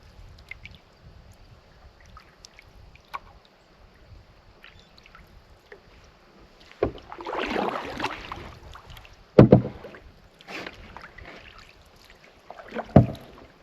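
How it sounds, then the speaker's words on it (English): A canoe paddled across a placid lake along the French River, quiet at first, then a soft rush of water and a few sharp paddle strokes and splashes close by, with light wind on the microphone. "I love paddling on these placid lakes."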